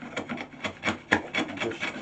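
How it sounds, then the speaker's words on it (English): A chisel cleaning up wood in a garden project, giving a series of short rasping scrapes at an uneven rhythm, close and fairly loud with no talk. "Once again with a chisel."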